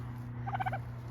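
A turkey gives a single short, rapid gobble, a quick rattling burst at moderate distance over a steady low hum, with no voices.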